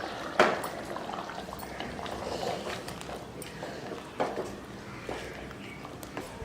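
Thick ground coconut mixture pours into a pot of goat curry in short sloshing bursts, with a sharp clink near the start and a softer splash later.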